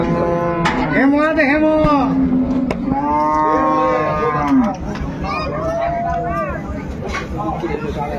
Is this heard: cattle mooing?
yes